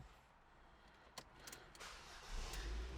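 A Ford, Mazda or Volvo car being diagnosed for a P0810 clutch position control fault cranks and starts, with short clicks before a low engine rumble swells in near and steady toward the end.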